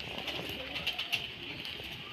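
Pair of Lotan pigeons cooing softly at close range, short repeated coos over a faint background hiss, with a voice murmuring quietly underneath.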